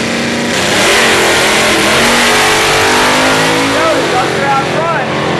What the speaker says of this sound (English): 400 cubic inch with a couple stages of nitrous in the Mustang.